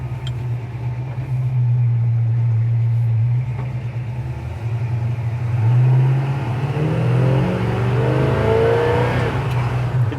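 A 1953 GMC truck being driven, its engine giving a loud, steady low rumble from inside the cab that rises and shifts in pitch as it accelerates, with no talking.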